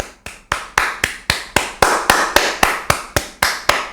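Steady, evenly paced clapping, sixteen or so sharp close claps in a regular rhythm with no voices over them.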